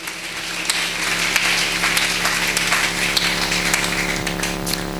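A church congregation applauding after the preacher's call, sustained dense clapping from many hands in a large room, loud and steady over a low organ or keyboard drone.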